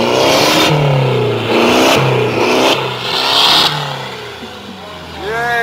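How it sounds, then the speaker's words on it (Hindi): A 4WD vehicle on a winter mountain expedition in Spiti, its engine revved hard several times in loud, close throttle blips that rise and fall, with a voice briefly heard at the end. "थ्रॉटल सुना दो या फिर थ्रॉटल सुना दो"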